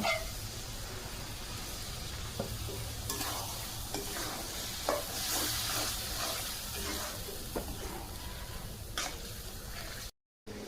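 Crushed meat tipped into a pan of fried spiced masala for a Bengali dried beef bhuna, stirred steadily with scraping strokes over a continuous close sizzle and hiss, with no talking.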